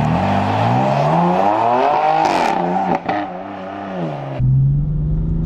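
BMW M4 with a DIY-modified exhaust, set to M mode with manual shifting, revs hard in rising and falling sweeps, loud and close, then drops to a low rumbling idle.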